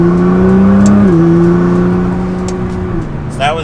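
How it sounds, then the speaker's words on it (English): A stock Nissan GT-R accelerates hard on a highway, its engine droning loud and close with a rising pitch, a brief dip at a gear change, then the pitch climbing again as the run continues. "Now in the stock tune, we'll do a slow acceleration and then a faster one."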